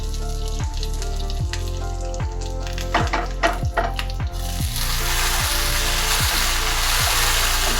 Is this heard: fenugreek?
yes